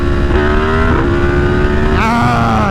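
A Yamaha MT10 motorcycle engine revs hard under throttle during a wheelie, loud and close, its pitch rising and holding, then dipping and surging again near the end.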